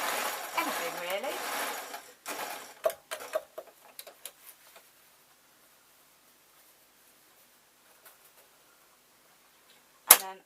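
A sewing machine runs close by, hemming a painting smock. It stitches in a short burst that ends in scattered ticks and clicks, then goes quiet. A sharp click comes near the end, and a voice talks over the start.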